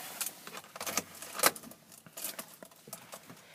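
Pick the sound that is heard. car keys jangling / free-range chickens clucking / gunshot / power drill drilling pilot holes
car keys jangling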